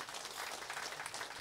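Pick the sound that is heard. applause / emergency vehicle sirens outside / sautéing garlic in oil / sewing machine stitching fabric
applause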